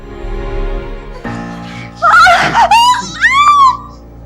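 A woman screams in a drama scene, several loud, wavering shrieks in the second half after quieter background music and a brief thud.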